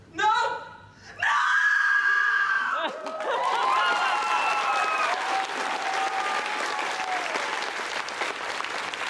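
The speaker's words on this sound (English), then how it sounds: "Awesome scream." A voice actor lets out a powerful, sustained scream during a panel at the Animazment 2017 anime convention, and the room erupts into loud applause, cheering and laughter that carries on to the end.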